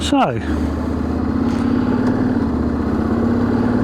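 A 2025 Honda X-ADV scooter engine runs steadily and loud as the rider pulls away slowly, a constant droning hum with a voice speaking briefly at the start.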